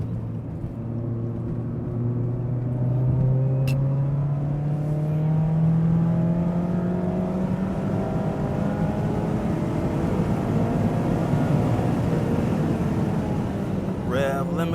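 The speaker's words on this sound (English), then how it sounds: "Rev limiter." A Mazda ND3 Miata driven hard on a race track: loud, close engine note climbing in pitch as the car accelerates, then holding high near the rev limiter under constant road and wind roar.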